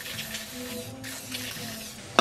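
WD-40 sprayed onto a stuck door latch mechanism: close, hissing aerosol bursts with faint metallic clinks, ending in a sharp click.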